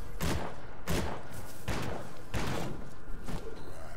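Grenades thrown at the player in the action RPG Grim Dawn land as five heavy thuds and bursts spaced about every half to one second, each a loud, broad blast over background game noise.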